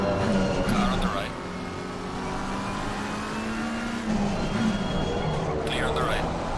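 A race car's engine whines and shifts pitch as another car runs close alongside on the right at Misano in a racing video game, with a steady high drone and engine note changes throughout.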